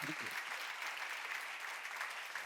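A church audience at a Bible lecture gives brief, steady applause, heard faint and distant throughout.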